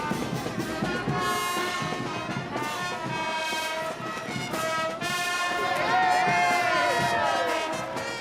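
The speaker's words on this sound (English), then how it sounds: "big crowds come here to watch the procession" A large festive crowd at the Saint Isidore carabao procession in Pulilan, Philippines, cheering, shouting and whooping continuously, with many overlapping voices close by and a swell of louder cheering toward the end.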